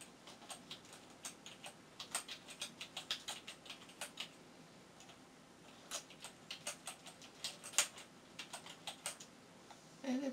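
Fingers typing an email address on a computer keyboard, quick close clicking keystrokes in uneven bursts with short pauses, fairly quiet and with no talk.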